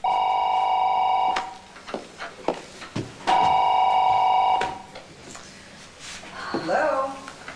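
A classic bell-style telephone rings loudly in two long bursts, with clattering and movement between the rings and a voice starting up near the end.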